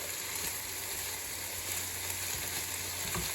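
Sausage browns in a frying pan with a steady, close sizzle that holds evenly throughout, with no voices.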